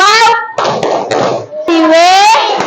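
A classroom of children claps together during an ice-breaking game in a lesson, a short burst of hand claps between voiced calls and shouts from the class.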